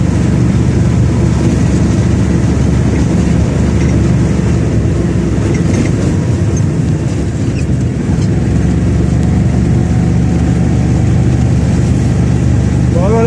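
A truck engine idles while parked in a steady, loud, unbroken drone, its low rumble constant throughout with no changes in pitch.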